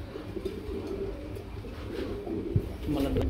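Lahori pigeons on a pigeon farm coo softly and steadily in the low register, a continuous murmuring bed of birds close by, with a few sharper flutters or knocks near the end.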